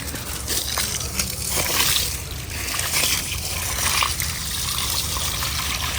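Steady rushing and sloshing of water pouring out continuously, fairly close, with no voices.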